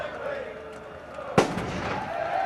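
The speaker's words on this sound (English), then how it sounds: "the latest in a series of firecrackers goes off in front of us" A firecracker bangs once with a sharp, loud crack in the stands at a Cliftonville v Celtic football match, over a steady crowd murmur and commentary.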